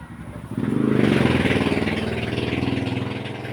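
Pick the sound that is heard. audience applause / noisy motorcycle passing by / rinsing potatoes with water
noisy motorcycle passing by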